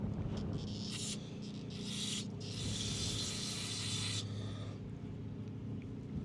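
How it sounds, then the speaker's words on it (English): Several hissing bursts of spray from an aerosol can of cleaner on a brake assembly during a front rotor and pad replacement, the longest lasting a couple of seconds, close by with faint mechanical rubbing between them. "I'm just gonna spray this out."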